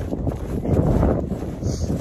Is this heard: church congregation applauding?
no